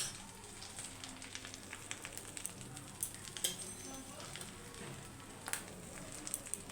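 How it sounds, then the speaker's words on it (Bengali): Nigella seeds sizzling in hot mustard-style oil left over from frying fish, a soft continuous crackle with scattered sharper pops, fairly quiet and close. "এইবার তেলে আমি কালো জিরে ফোড়ন দেবো"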